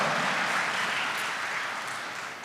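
A conference audience at a keynote talk gives brief applause, a wash of many hands clapping that gradually fades.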